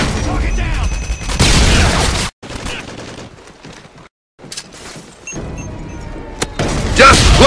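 Frag grenade blasts and gunfire in Modern Warfare 2, loud bursts of booming noise broken by brief silent gaps, with a sharp final burst and voices mixed in.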